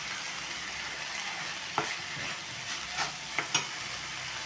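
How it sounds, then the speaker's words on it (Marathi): Chopped spinach goes into frying onion paste in oil, a soft continuous sizzle with a few sharp spoon scrapes and taps toward the end, close and fairly quiet, without talk. "त्यामध्ये टाकूया आता हा बारीक चिरलेला पालक"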